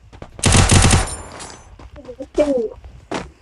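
Rapid automatic gunfire in the mobile shooter game Free Fire, a loud dense burst of shots followed by scattered fainter reports, with excited players talking over it.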